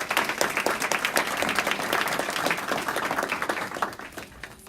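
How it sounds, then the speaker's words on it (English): An audience at a non-profit board panel event applauds the panel, a full, dense wash of many hands clapping steadily throughout, with individual claps standing out near the start before it tapers slightly at the end. "let's give them all a round of applause"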